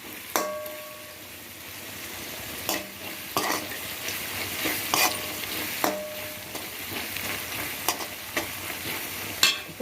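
Paneer and idli being stirred and fried in a pan, with a soft continuous sizzle under repeated scraping and clinking strokes of a spoon against the metal at irregular intervals.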